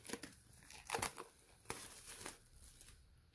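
Plastic wrapping crinkles and tears in short bursts as the Target exclusive Stranger Things season 2 set, a book-style folding case, is unwrapped up close, with several sharp rips at a quiet level.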